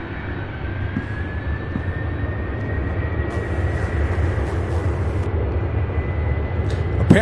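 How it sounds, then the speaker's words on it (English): Southwest Boeing 737-800 airliner at Louisville International Airport, a continuous loud engine roar with a slowly rising whine, steady and fairly close, no talk over it. "Next up, we have Southwest Flight 1685 heading to Phoenix, Arizona in a Boeing 737-800."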